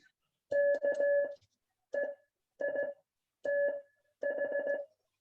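Morse code sent on an iambic key comes through as clean, quiet electronic beeps in short grouped bursts of dits and dahs with even pauses between characters, alone with no talking.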